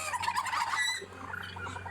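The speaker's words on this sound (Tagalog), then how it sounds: "Ang laking mga manok na to. Kasing laki na rin ng pabo" Large turkey-sized chickens calling in a run of clucks and chirps during feeding, fairly near, over a steady low hum.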